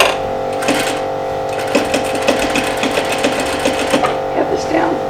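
A sewing machine stitches a covered welt on a slipcover, its steady close-up mechanical whir and rapid needle clatter running continuously with slight changes in pace.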